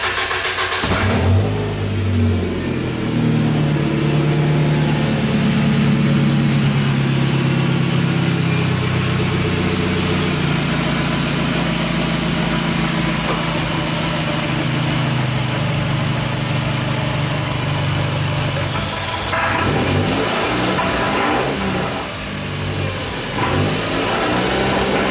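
A car engine cranks and starts after muffler repair work, then idles and revs steadily and loudly up close for a long stretch, with the pitch rising and falling.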